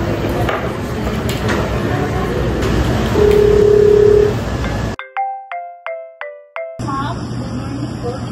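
A phone number is keyed in by a school nurse, seven or so short electronic tones in a quick, slightly uneven sequence, clear and close after a stretch of room noise and background talk.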